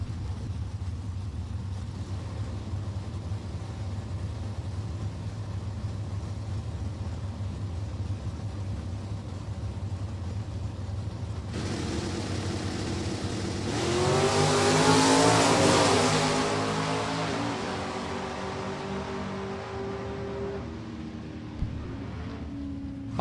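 Drag cars, including a 2013 Camaro, launch at a Lucas Oil series event at Maple Grove Raceway: a low idling drone, then a sudden roaring launch that peaks loudly and fades down the strip.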